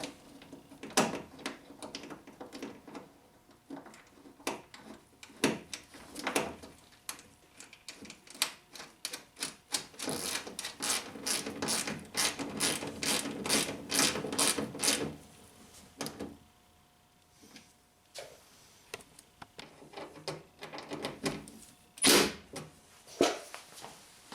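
A bolt is fastened back into a 2012 Honda Accord door during a lock actuator replacement, heard as bursts of close ratcheting clicks and sharp metallic taps with short pauses between runs.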